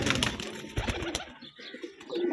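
High flyer pigeons cooing close by, soft throaty coos repeated in quick bursts with some rustling and faint chirps around them.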